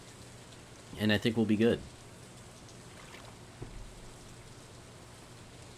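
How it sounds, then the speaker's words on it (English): Steady in-game rainfall from Stardew Valley, a soft continuous patter running through the whole stretch, with someone speaking briefly over it near the start. "I like the rain sound effects"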